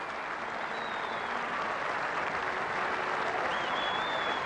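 A big cricket crowd applauds a century at a one-day international between Australia and Zimbabwe, a steady dense wash of clapping that holds at an even level throughout, heard from a distance with no voices over it.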